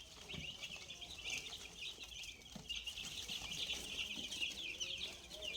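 Sonali and Koyla chicken chicks, a flock of about a hundred young birds, keep up a dense, continuous high peeping and chirping, with scattered clucks and light rustling at close range and no talk.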